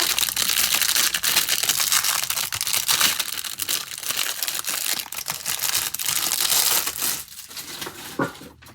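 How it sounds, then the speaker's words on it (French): Continuous crinkling and rustling as a small net wrapping is pulled off a freshly unboxed product, close and loud, with crunchy bursts that grow sparser near the end. "J'enlève le petit filet."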